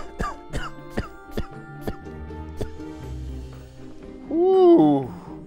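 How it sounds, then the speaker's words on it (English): A single deliberate cough, staged as a demonstration of how germs spread, rises loudly near the end after a stretch of quiet clicks and background tones. "You ready for this cough?"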